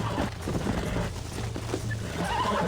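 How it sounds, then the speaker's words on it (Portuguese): A wild horse in the Red Dead Redemption video game neighs and whinnies over continuous in-game ambience and hoof noise, the calls fairly close and repeated, with no talk. "John Master, o maior domador de cavalo, hein?"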